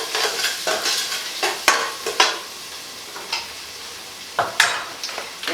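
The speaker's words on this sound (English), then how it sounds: "And then I'm gonna mix everything together." Spices for a beef stew, with stock cubes, are stirred in a pot, producing a run of close scraping strokes with sharp clinks of the spoon against the pot and faint sizzling underneath.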